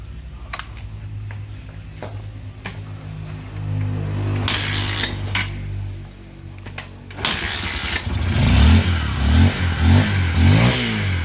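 A Honda XR 150 motorcycle engine, repaired after a stalling fault, idles with a steady thumping, is cranked again partway through, then runs and revs in rising, pulsing bursts, heard close and loud.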